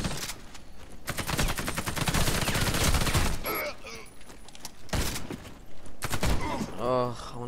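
Bursts of automatic gunfire from the FY 103 rifle in the shooter game Warface, sharp repeated shots in two main stretches with mechanical clicks between, loud and close with a voice talking over parts of it.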